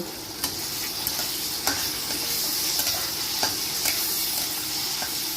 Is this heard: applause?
no